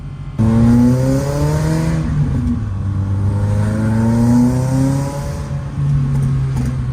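A car engine revs hard up close, its pitch climbing and dropping in repeated loud sweeps with backfires, no talking over it. The car makes 150 horsepower.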